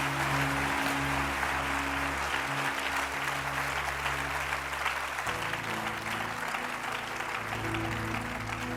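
A church congregation claps and cheers for Jesus in sustained, dense applause, loud and continuous, with a low organ or keyboard chord sounding underneath.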